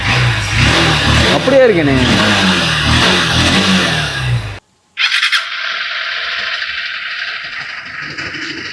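A freshly serviced Honda Unicorn 160 motorcycle with 51,000 km on it is revved. Loud mixed noise and voices come first, then after a brief gap a steady, strong engine drone holds close by.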